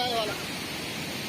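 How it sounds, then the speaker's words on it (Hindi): Fast, heavy floodwater of a swollen river during monsoon flooding in Uttarakhand rushes in a dense, steady broadband roar, close and continuous throughout. "नदी का बहाव जो है वो काफ़ी तेज है"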